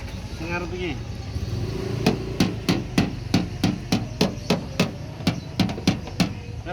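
Steady hammer blows knock dents out of a car body during ketok magic repair, about sixteen evenly spaced metallic knocks close by, with voices talking before and under the rhythm.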